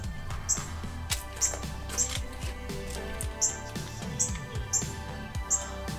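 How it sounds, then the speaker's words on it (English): A northern cardinal calls repeatedly from close overhead, sharp bright chips at roughly regular intervals, over a busy background of other faint birdsong and woodland ambience. "Very noisy cardinal."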